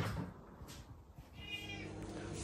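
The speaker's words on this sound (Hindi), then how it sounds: "हमारी बिल्ली को भूख लगी है आर यू हंग्री देखो इसको भूख लगी है" A hungry house cat meows nearby indoors, with a clear drawn-out meow in the second half among soft rustles and light knocks.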